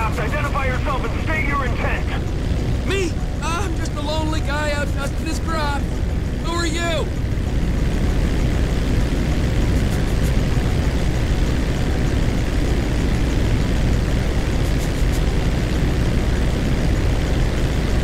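An airplane engine in Grand Theft Auto 5 drones steadily as the plane climbs over Los Santos, a constant broadband roar that carries on throughout, with a voice talking over the first several seconds.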